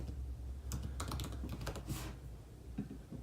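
Close, quiet typing on a computer keyboard during a signup, an uneven run of soft key clicks and taps lasting a few seconds with no voices.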